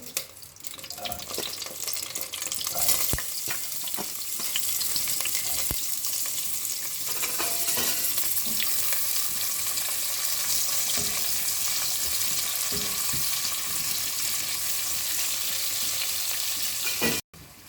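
Steady sizzling and crackling of shallots and whole chillies frying in a hot pan, with occasional clinks and stirring sounds throughout.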